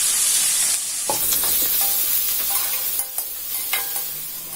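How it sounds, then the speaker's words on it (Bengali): Chopped onions and cumin seeds sizzle loudly in hot oil left over from frying pangas fish, a constant hiss broken by the clinks and scrapes of stirring. "পেঁয়াজ কুচিও দিয়ে দিলাম।"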